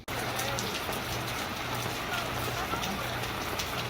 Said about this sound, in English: Oh, now it's coming down. Now it's raining.